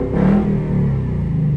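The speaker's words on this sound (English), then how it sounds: "it's definitely a louder exhaust note" A 2022 Ford Mustang GT with Roush exhaust revs briefly and loudly, baffles open, a deep exhaust roar rising and then settling into a rumbling idle.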